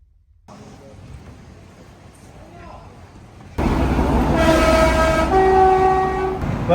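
A passing train, heard at first as a distant rumble, then a sudden loud close roar with several sustained horn toots over the rattle of the cars.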